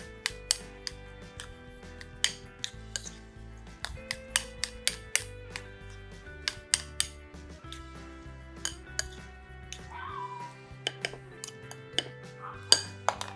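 Spoon clinking and scraping against a pot while carrot purée with butter, powdered vegetable stock and milk is stirred together, giving repeated sharp metallic taps over a quiet background.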